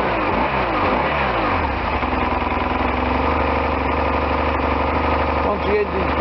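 A warmed-up 1998 BMW R1100RT motorcycle engine idles steadily and close by, a continuous low throbbing rumble that holds an even level throughout with no revving.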